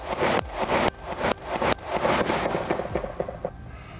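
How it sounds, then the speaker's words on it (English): A pistol is fired live at a target in a defensive shooting drill, and loud sharp gunshots crack in a rapid string of about eight or more. Each shot has a close, punchy report and brief echo, and there is no talking. "uncover that pistol, come out of the holster, I'm gonna live fire."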